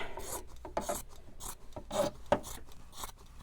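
Scissors trimming fabric for in-the-hoop machine embroidery, a series of close rasping cuts with brief pauses between snips.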